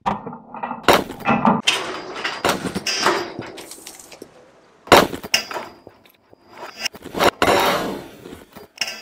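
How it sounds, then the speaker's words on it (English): A heavy hammer smashes blue engineering bricks and concrete blocks, giving several loud, sharp crashing impacts spread over a few seconds, each followed by crumbling, rattling debris. "The impact was again pretty devastating, making mincemeat of the blue bricks and the concrete blocks."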